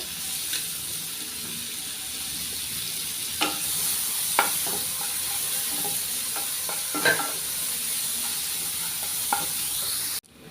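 Sliced onion sizzling steadily in a pan as it fries, with occasional scraping clinks of a spoon stirring it, close and continuous with no talking.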